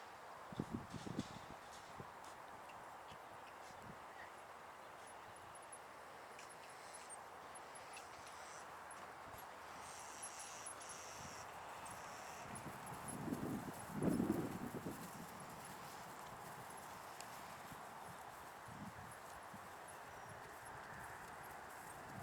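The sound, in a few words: horse hooves while ridden through a dressage test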